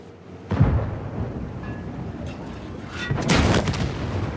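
Two heavy booming tank explosions in World of Tanks, a sharp blast early on and a bigger, longer one later, over a constant rumbling background.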